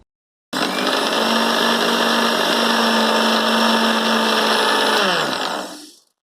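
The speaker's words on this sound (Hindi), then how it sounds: "तो मैं इसे एक बार और ग्राइंड कर रही हूँ।" A Preethi Blue Leaf Diamond mixer-grinder grinding sugar into powder starts abruptly with a loud, steady high whine. It runs evenly for about five seconds, then spins down and fades out.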